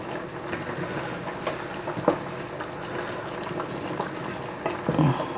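Cassava and pumpkin curry simmering in a pot, giving a steady low bubbling and faint sizzle throughout, with a few small knocks and stirring clatters near and close.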